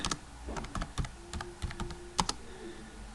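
Steady typing on a computer keyboard while code is entered for a lesson on the FOR loop, a quick irregular patter of close key clicks with no talk.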